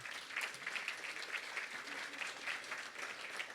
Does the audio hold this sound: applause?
yes